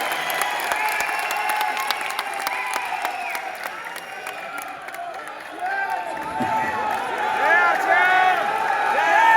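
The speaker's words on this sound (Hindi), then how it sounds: "इतनी बार तालियां बजवा ली इन्होंने।" A large crowd applauds steadily at the Rupantaran Yatra event in Delhi's Thyagaraj Stadium, dense loud clapping mixed with scattered cheers and raised voices that swell toward the end.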